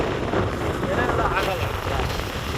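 Wind gusts on Mandaragiri hill near Bangalore, overlooking a lake, buffet the microphone with a low, blustery roar, while faint voices murmur underneath.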